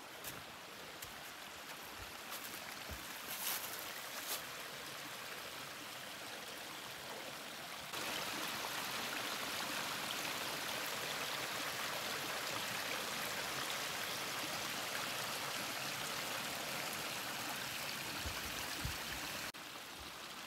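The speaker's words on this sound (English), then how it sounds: "I got a cute little waterfall here." A small waterfall on a forest trail near Cliff Lake in Temagami gives off a steady, full rush of falling water. It stays close and unbroken from start to finish, with no voices.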